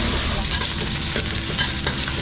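Dried-chili larb stir-fried in a good iron wok over high heat gives a loud, continuous sizzle with steady stirring and scraping, close up, with no talking.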